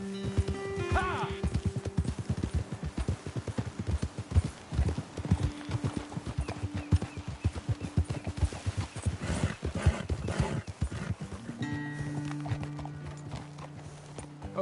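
Horse hooves clip-clop steadily while riding in Red Dead Redemption 2, a continuous close rhythmic patter with occasional snorts and game voices and music mixed in.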